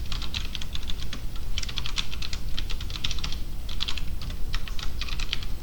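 Dense, steady clatter of keystrokes as Python code is typed on a computer keyboard, rapid irregular bursts with brief pauses, close and clear, no voices.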